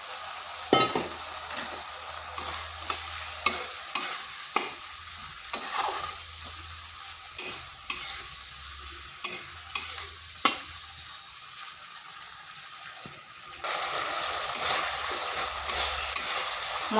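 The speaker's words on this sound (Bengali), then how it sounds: "মশলাটা একটু কষে নিচ্ছি। এরপর এখানে দিয়ে দিচ্ছি একটা টমেটো।" Spice paste with tomato sautés in a pan: a soft steady sizzle punctuated by frequent clicking scrapes of a spatula, then a louder burst of frying toward the end, close and without speech.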